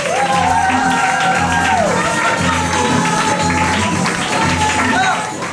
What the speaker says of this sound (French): Faites un tonnerre d'applaudissements à Thomas Lapointe.